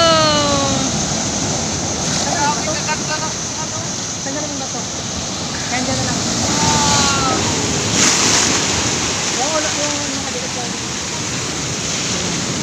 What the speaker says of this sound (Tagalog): Ang ganda ng alon. Ang laki.